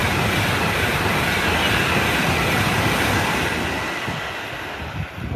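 A recording of an Avanti West Coast train passing plays as a loud, continuous rushing roar of wheels and carriages that thins out and fades over the last second or so.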